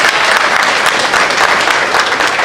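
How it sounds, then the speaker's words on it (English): Loud, sustained applause from the audience at a Muslim Caucus of Parliament of Ghana evening event rolls on evenly, a dense wash of many hands clapping. "I'd like us to give a hand of applause to the speakers"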